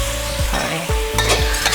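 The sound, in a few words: fish sauce and soy sauce sizzling in pan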